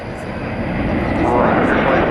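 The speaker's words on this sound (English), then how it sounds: "Poised for takeoff. Flight 577 to Denver. American Airlines and Airbus A321." An American Airlines Airbus A321 jet takes off at night at an airport, its engine roar loud, broad and steadily building, with a voice talking over it.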